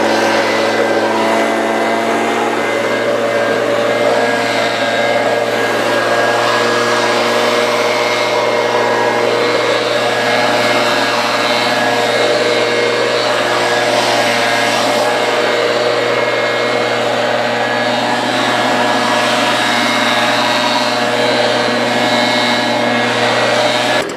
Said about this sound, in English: We'll get this blower going